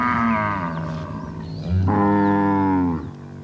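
Two long, deep moos from cattle tied up close by in an evening camp, the second louder and rising before trailing off, with quiet ambience underneath.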